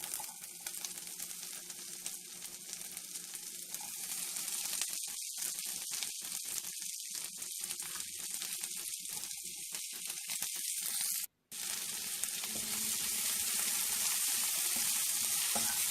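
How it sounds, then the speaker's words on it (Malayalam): Sliced onions fry for prawn masala while being stirred. A loud, steady sizzle hisses close by, with the scrape of stirring breaking through and a brief silent gap near the end. "അതൊന്ന് വഴന്ന് വരുന്നത് വരെ ഇളക്കി കൊടുക്കുക"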